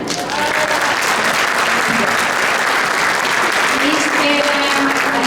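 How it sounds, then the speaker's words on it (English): A large indoor audience at a Chinese New Year celebration breaks into dense, sustained applause, loud and continuous, with faint voices mixed into the clapping. "Please give them another big round of applause"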